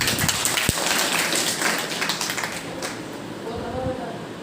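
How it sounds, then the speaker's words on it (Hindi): A group claps hands together at a school gathering in Sheopur with parents, children and helpers, a dense, steady patter of many hands running throughout with a sharp tap near the start. "और ताली बजाइए"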